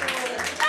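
Brief burst of clapping from wedding guests at a reality-show ceremony, sustained and mid-level, with a voice cutting in near the end.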